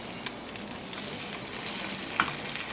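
Raw egg for an omelet cooks in a tilted pan with a soft, steady sizzle, fairly quiet, broken by a couple of faint scraping clicks.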